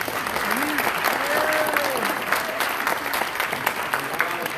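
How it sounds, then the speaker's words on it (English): A gala audience at a family night applauds tribal elder Ernest Sivas, the steady clapping spread across the room while a voice speaks over it. "Let's give him a round of applause."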